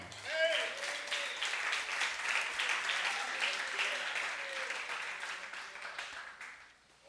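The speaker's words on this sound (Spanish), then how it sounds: "Denle un aplauso al Señor" Applause at a church conference, a steady roar of clapping from the congregation with voices calling out beneath it, moderately loud and then fading out at the end.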